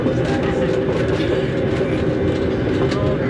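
A tour train on the gold dredge railway in Fairbanks, Alaska rolls along with a loud, steady rumble and rhythmic clickety-clack of wheels on rails as it comes in to stop.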